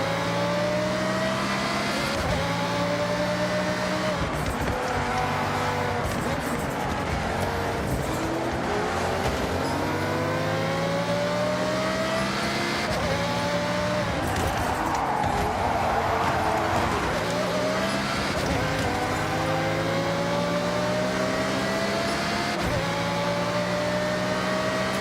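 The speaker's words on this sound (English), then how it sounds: "I'm driving super fast" A car driving fast in Forza Horizon 6, its engine revving continuously and loudly through repeated upshifts with rising and falling pitch, plus brief tire squeal, under occasional talking.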